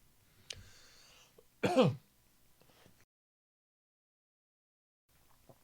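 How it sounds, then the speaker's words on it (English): A single throat-clearing cough, close and abrupt, after a faint earlier click, followed by silence. "Excuse me, coughing."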